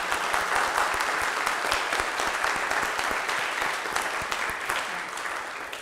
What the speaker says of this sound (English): Can we have another round of applause for our first half?